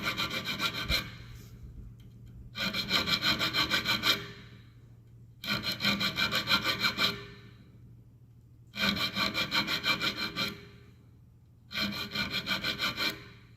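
Hand-sawing or filing a homemade locking bolt (lock nut) in alternating bursts: five rhythmic, raspy stroke sequences of a few seconds each, separated by short pauses, close and fairly loud with no talk.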